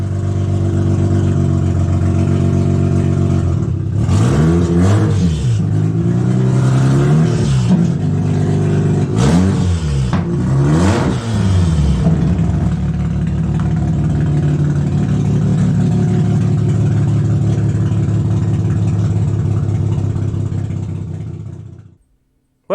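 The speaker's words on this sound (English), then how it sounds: "took it out for a test drive." A Mazda RX-8 with a rotary engine on a test drive, heard from inside: a steady loud engine drone rising and falling through several revving gear pulls, then settling and cutting off at the end.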